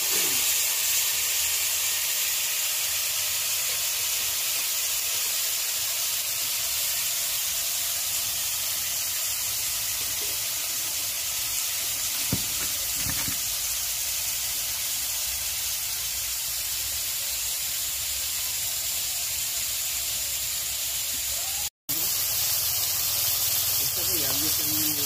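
Fish frying in hot oil, a loud continuous hiss and sizzle held steady throughout, close and dense with a brief cut near the end.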